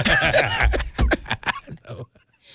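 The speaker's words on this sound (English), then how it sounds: "Would you listen to that cartoon dog that coughs and wheezes at the same time?" A cartoonish voice lets out a rapid series of raspy coughs and wheezy, snickering gasps, trailing off into quiet.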